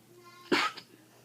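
A single sharp sneeze bursts out nearby during a quiet indoor conversation, loud and brief against faint background hum.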